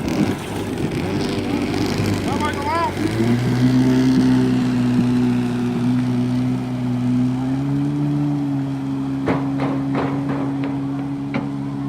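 Jet ski engine idling steadily with a low droning hum, then the pitch rises slightly as the throttle is jiggled, with a few sharp knocks near the end and people talking faintly in the background.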